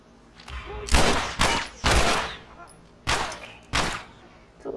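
Gunfire in The Last of Us Remastered, five heavy shots spaced irregularly across the stretch, each a loud booming burst with a short decaying tail, close and prominent, with no talking between them.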